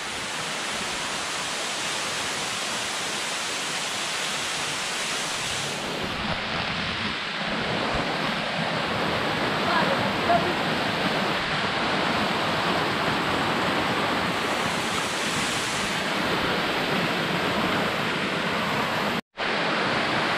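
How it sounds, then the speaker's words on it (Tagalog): Pikong Falls waterfall, a steady, dense rush of falling water close by with some wind buffeting the microphone, continuous throughout with a brief dropout near the end. "Pikong Falls."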